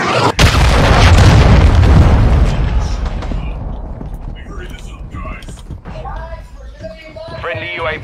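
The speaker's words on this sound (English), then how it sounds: "Friendly cruise missile approaching target." A cruise missile strike in a first-person shooter game lands as a loud, deep boom, with the rumble fading over several seconds while game voices and effects carry on.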